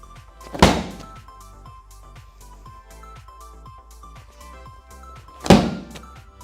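An exercise ball is slammed down onto the floor twice, several seconds apart, each a heavy close thud standing over a quiet background with faint rhythmic ticking.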